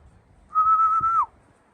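A single sustained whistled bird call, steady in pitch then dropping at the end, heard alone against quiet background for about a second.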